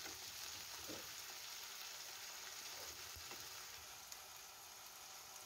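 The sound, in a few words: ginger and green chilli paste being stir-fried with water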